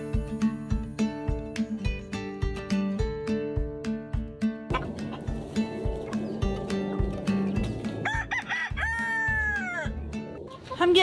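A flock of adult chickens mixed with smaller bantams and chicks clucks in a steady, rhythmic chorus close by, with a rooster-like crow rising near the end; no one speaks.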